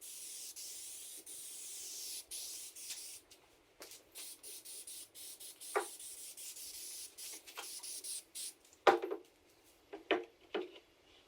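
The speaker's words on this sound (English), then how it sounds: "When I sanded this, I just used an 80 grit sandpaper." A beetle-damaged log is hand-sanded with 80 grit sandpaper, giving a soft steady rasp followed by short, separate scrubbing strokes that come close and fairly quiet, with nobody speaking.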